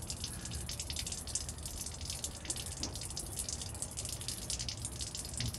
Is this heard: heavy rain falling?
no